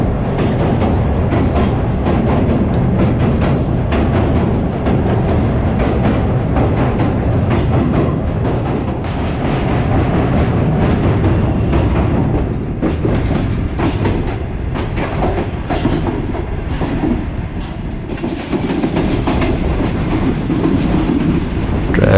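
The Shalimar Express runs on the track between Karachi and Multan, a loud, continuous close rumble with rhythmic clickety-clack of wheels over rail joints, with no voices.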